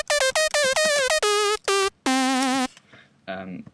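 A funky synth lead patch built in the Massive synthesizer plays short, punchy, bright staccato notes with strong harmonics, then a longer held note and a quieter final phrase.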